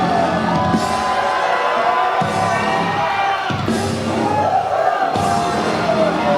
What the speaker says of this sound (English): we hear the crowd murmuring the whoop whoop and too sweet